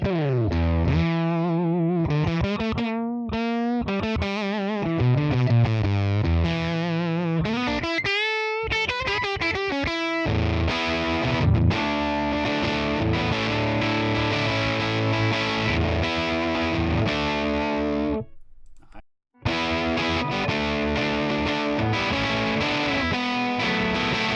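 Heavy fuzz-drenched electric guitar riffs through a Fuzz Face-style pedal on a Tonex One, no noise gate, chug and bend loudly, with brief stops between phrases and a short silent gap near the end.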